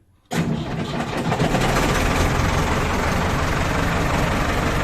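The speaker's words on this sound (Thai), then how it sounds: "เดี๋ยวไปฟังเสียง เครื่องกันเลยครับหลังจากจอดมานานครับก่อนออกทำงาน" A truck engine parked for a long time fires up at once after a brief silence, catching on the first try and settling into a loud, rough, steady idle close by.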